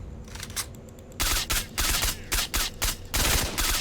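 A 5.56 rifle fires in S.T.A.L.K.E.R. Shadow of Chornobyl Enhanced Edition: a few faint shots at first, then loud bursts of rapid automatic fire in distinct volleys with short gaps, close and dominant, no talking.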